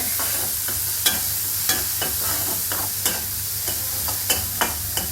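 Boiled cowpeas are stirred in hot oil in a pan for kara kozhukattai, a constant soft sizzle with periodic scraping clicks of the spoon against the pan; no one talks.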